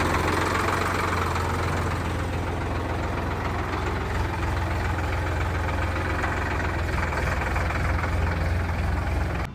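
Indo Farm 3055 tractor engine idling close by, a steady low diesel rumble with a faint knocking beat that holds evenly for the whole stretch, with no voices over it.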